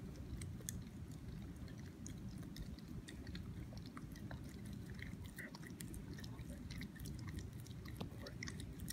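A German Shepherd dog chewing peanut butter, close, wet smacking and licking sounds repeating in quick irregular bursts throughout, with no voices.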